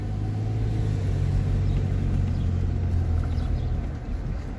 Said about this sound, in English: I'm gonna let these cars pass me.